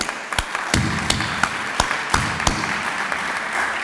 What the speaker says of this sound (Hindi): एक बार इन सब के लिए भरपूर तालियां बजाएं।